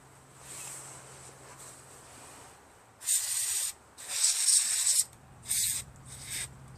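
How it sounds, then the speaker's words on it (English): A spray bottle fires several strong, hissing bursts close up, each lasting about a second, during cleaning work on a Craftsman LT1500 lawn tractor. "The stream of this bottle is so strong."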